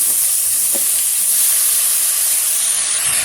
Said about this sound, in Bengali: হালকা লাল লাল করে ভেজে নিয়েছি, এবারে দিয়ে দেবো কেটে রাখা টমেটো।